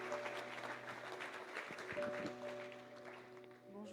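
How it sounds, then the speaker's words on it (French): Congregation applauding during a church service, a fairly faint wash of clapping heard with a steady tonal hum and some background sounds. "Soyons pas avares en applaudissements ce matin."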